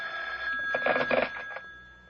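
A telephone bell rings at night in a radio drama, a single short jangling ring, moderately loud against a quiet room with no talk.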